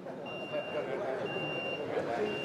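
A vehicle's reversing alarm sounds faintly and steadily in the distance, its thin high beeps repeating under a low rumble of engine noise and room murmur outside a mosque gathering in Depok.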